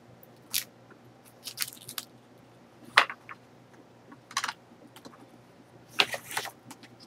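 Scissors snip through patterned paper from a craft paper pack in short, crisp bursts, about eight separate cuts spaced irregularly, close and clear over a quiet background with no talking.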